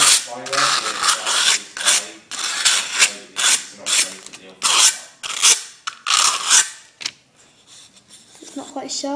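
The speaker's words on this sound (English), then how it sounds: "I'm just going to sand it." Sandpaper rasps against a small aluminium can being shaped for a penny stove, a series of close, loud scratchy strokes in a steady back-and-forth rhythm that tapers off near the end.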